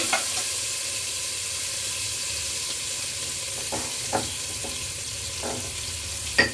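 Spices tempering in hot oil for a quail curry (kaadai kuzhambu) give a steady, close crackling sizzle, with a few sharp stirring clicks and pops standing out near the end and no voices.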